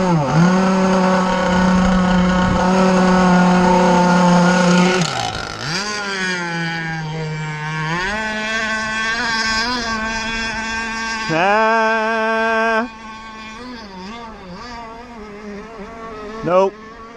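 Insane Hulls RC Jersey Skiff model boat with a small buzzing nitro engine, loud and close, revving high then sagging and stuttering, its pitch wavering up and down before cutting out near the end.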